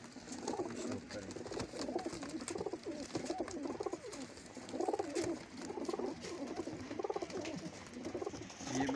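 Pigeons sold as high flyers coo repeatedly from cages, a soft rhythmic rolling of overlapping calls close by, with faint background chatter.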